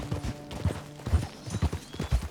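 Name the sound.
horse hooves climbing slope, video game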